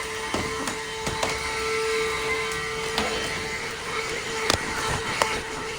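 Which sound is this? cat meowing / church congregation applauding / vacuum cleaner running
vacuum cleaner running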